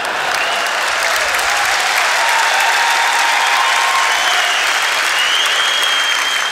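A large audience applauds at a jubilee show, a dense, even roar of clapping that holds at full strength for several seconds, with faint crowd voices underneath.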